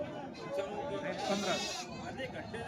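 Goats and sheep bleat repeatedly amid the steady crowd chatter of a busy goat and sheep market in Loni, with voices talking close by throughout.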